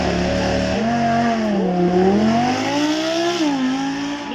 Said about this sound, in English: So then now we have our V10 Audi